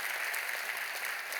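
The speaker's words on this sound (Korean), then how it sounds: "여러분 크게 박수로 환영하시고 격려하세요." Steady applause from a church congregation of deacons welcoming a parish group at a training gathering, a dense wash of many hands clapping at moderate distance, continuous and even.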